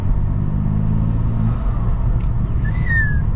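A BMW M2 on a midnight drive hums along under light throttle, a steady low engine drone mixed with road rumble inside the cabin, with a brief rising whine near the end.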